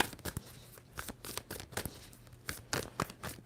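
Tarot cards shuffled by hand, a string of quick crisp riffling snaps in short irregular bursts, close and fairly quiet.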